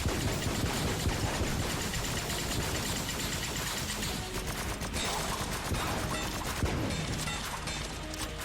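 Rapid enemy gunfire in the video game Enter the Gungeon, a dense, continuous barrage of shots and mechanical clatter with crashing impacts, loud and unbroken throughout.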